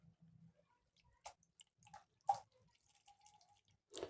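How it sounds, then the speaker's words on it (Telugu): Water dripping from boiled mustard greens as they are squeezed by hand, a few soft scattered drips and small splashes, faint and close, with no talking. "ఇప్పుడు మనం దీన్ని నీళ్ళు లేకుండా కొంచెం కొంచెంగా నీళ్ళన్నీ పిండేసుకుంటే"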